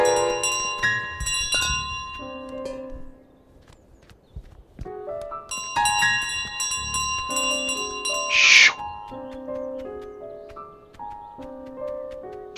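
In Untitled Goose Game, a bell rings repeatedly amid clattering footsteps and light in-game music, with one sharp louder ring standing out near the end.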